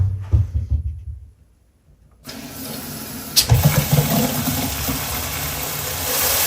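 Water gushes from a kitchen faucet as it is turned back on after a short silence, giving a steady, close hiss and splash that continues to the end.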